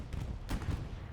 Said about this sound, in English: Bombing run coming over from Glow will hit Chad.